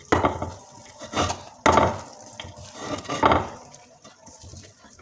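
Caramel-coated popcorn tumbles into a ghee-greased tray in a few close, loud bursts of dry rattling and scraping, with short pauses between pours.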